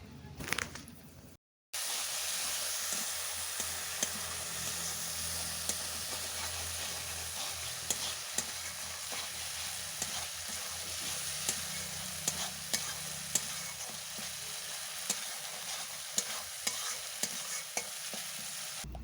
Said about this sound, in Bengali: অল্প জল দিয়ে ভালোভাবে নাড়াচাড়া করে মশলা আমি কষে নেব।